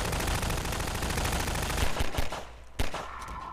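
Rapid, dense gunfire from a Half-Life 2 firefight, loud and continuous for most of the stretch before thinning into a few separate sharp shots near the end.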